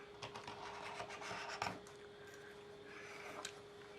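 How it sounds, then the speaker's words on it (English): Sandpaper rubs by hand across a cured resin sculpture, light rasping strokes repeating at close range with a steady hum underneath, fairly quiet overall. "I will go around and sand these as well"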